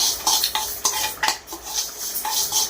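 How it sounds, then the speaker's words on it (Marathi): Dry lentils scraped and stirred in a hot pan, giving close, repeated clinks of a spoon against metal over a soft rattling shuffle of grains, with no talk. "पूर्ण सोनेरी कलर येऊसपर्यंत डाळ भाजून घ्यायची"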